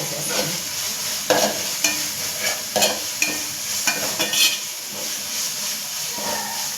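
Tomatoes go into a pan of frying onion and ginger-garlic paste for shahi biryani, then get stirred: a steady oil sizzle and hiss with repeated spoon scrapes and clatters against the pan, close and moderately loud, no talking.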